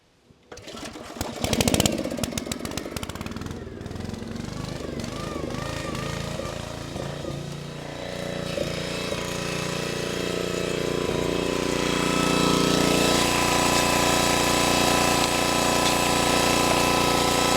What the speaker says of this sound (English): And just like that, we have a vertical splitter.